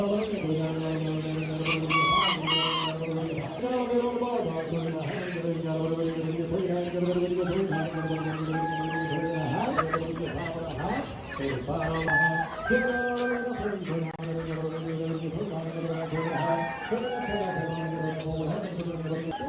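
Ayam Cemani chickens, a black-feathered breed, clucking and crowing at an animal auction, with repeated nearby clucks and calls mixed under steady talk from people nearby.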